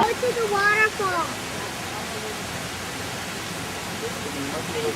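A waterfall at Disney's Animal Kingdom gives a constant broad rushing wash of falling water, with a few voices talking briefly over it at the start before the steady roar continues alone.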